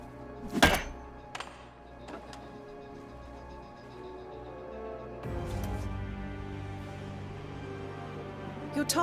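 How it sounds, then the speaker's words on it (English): Silenced pistol fired in the Hitman game tutorial: one sharp muffled thump near the start, a couple of softer knocks after, then a wash of game ambience with a rising rumble toward the end. "Use your silent pistol or the client will notice."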